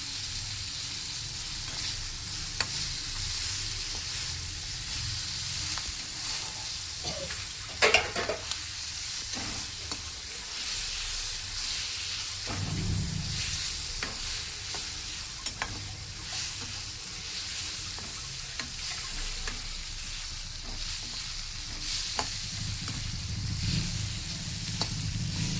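Washed dried anchovies fry in a pan with a steady close hiss and sizzle, broken by occasional scrapes and knocks as they are stirred.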